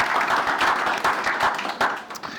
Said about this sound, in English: deserves an enormous round of applause for what they've done in such a short amount of time